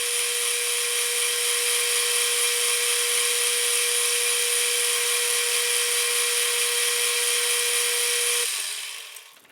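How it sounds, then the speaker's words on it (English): A metal lathe faces the bottom of an aluminum oil pot, giving a loud, steady machining whine with strong high tones and no talking until it stops abruptly near the end. "Just clean up the bottom of this quickly before we start some boring."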